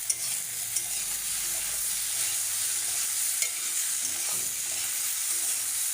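Squash, potato and carrot sizzle and fry in a pan as they are stirred, a constant close crackle with a few light clicks of a utensil against the pan.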